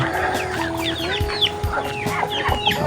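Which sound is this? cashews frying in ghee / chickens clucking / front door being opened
chickens clucking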